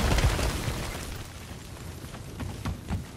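An explosion in God of War 4, set inside a mine, starts with a loud low boom that rumbles and fades, followed by scattered crackling debris and game sounds.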